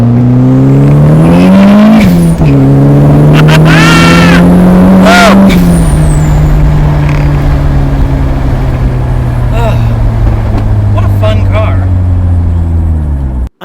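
A family sedan's rally-derived engine revs hard in second gear and climbs in pitch, loud and close, then holds a steady drone as it pulls on.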